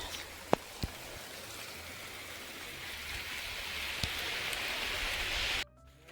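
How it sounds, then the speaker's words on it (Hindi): Steady rain falls in the mountains and grows slightly heavier, a close, even hiss with a few sharp drops and taps, cutting off abruptly at the end. "ओहो बारिश बढ़ती जा रही है"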